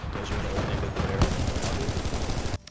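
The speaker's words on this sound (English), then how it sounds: "Why is everybody shooting at me?" Sustained rapid gunfire fills a Titanfall 2 firefight, dense overlapping shots that stay loud and close for a few seconds before cutting off abruptly.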